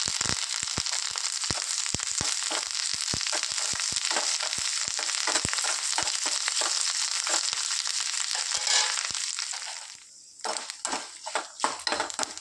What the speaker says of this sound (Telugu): పోపు ఫ్రై అయింది ఫ్రెండ్స్.